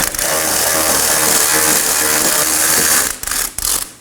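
A ratchet wrench loosens a bolt on the rear axle of a 2018-2024 Chevrolet Equinox 1.5L, giving a loud, fast continuous clicking run that breaks into a few short bursts near the end.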